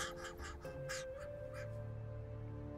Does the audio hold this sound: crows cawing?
yes